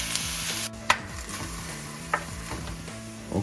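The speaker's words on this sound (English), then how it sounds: "sauteing for about 10 minutes" Pork browning in a pan for sweet and sour pork, a soft continuous sizzle with a few sharp clinks and scrapes of stirring, no one talking.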